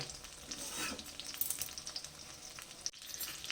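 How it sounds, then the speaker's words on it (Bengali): Eggplant slices fry in hot oil, a soft, fairly faint crackling sizzle with scattered pops and a brief stirring scrape, close by and steady throughout. "বেগুনগুলোকে গ্যাস কমিয়ে কমিয়ে ভাজবে না"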